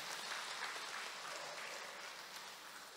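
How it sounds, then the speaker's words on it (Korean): Congregation applause at an evening worship gathering during a church-wide retreat: dense, steady clapping from many hands holding at an even level for about three seconds, with no voices over it. "박수 한번 해주세요."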